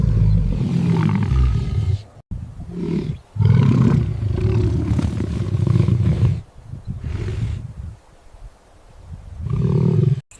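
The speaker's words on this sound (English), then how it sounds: "Their deep roars echo through the night, marking their territory across miles of open land." Lions roar in the Namibian desert at night, a series of deep, loud, drawn-out roars separated by short pauses, close and clear with no talking.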